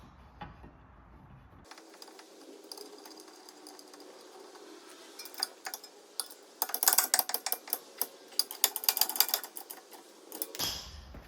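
Caliper carrier bolts on a VW rear brake are wound all the way in, giving rapid metallic ratcheting clicks that start sparse and grow into dense, loud bursts before stopping.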